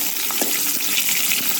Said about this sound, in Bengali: এই আলুটাকে ভেজে নেবো ভালো করে